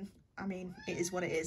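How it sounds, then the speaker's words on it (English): A house cat meows loudly and close by in drawn-out, wavering cries while a person talks at the same time. "Apologies for my cat there. He's being very vocal tonight."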